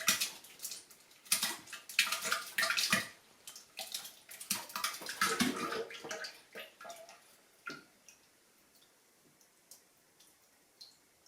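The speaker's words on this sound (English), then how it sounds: "go ahead and pour that straight into the fermenter" Mango pulp for a kveik-fermented mango lassi IPA is poured into a fermenter, giving splashy, gurgling bursts that come in uneven spurts and then thin out into scattered drips and small knocks, fairly quiet and close.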